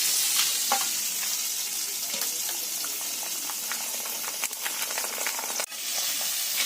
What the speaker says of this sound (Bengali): সব পটলগুলো ভালো ভালো ভেজে নিচ্ছি।